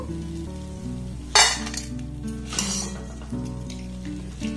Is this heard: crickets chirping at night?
no